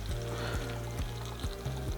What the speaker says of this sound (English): take your brine and pour it while it's still warm into your jar